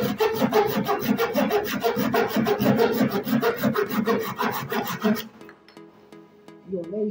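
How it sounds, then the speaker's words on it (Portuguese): A small pull saw with 10 TPI teeth, cutting on the pull stroke, rasps steadily through wood in quick, even rhythmic strokes, then stops abruptly, leaving quiet with faint tones. "essa serrinha, diferente do serrote, que os dentes são para frente, ela corta para trás"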